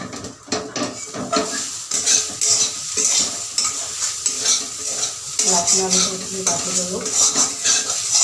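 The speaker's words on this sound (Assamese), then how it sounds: "কেৰাহীটো বহাই সদায় নাৰিকলখিনি ভাজি ল'ব লাগে" Grated coconut stir-fried in a wok over a gas flame, with a steady sizzle and repeated scraping and clinking of a spatula against the metal pan, close and continuous with no talk.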